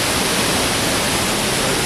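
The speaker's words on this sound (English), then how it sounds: "Here's the falls." Waterfall at the end of Wissahickon Creek roars as a steady, loud, broadband rush of falling water with no pauses and no voices.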